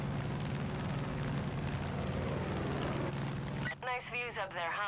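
An aircraft in Far Cry 5 drones with a loud, dense engine roar that cuts off abruptly near the end, after which a voice speaks briefly in the quieter space.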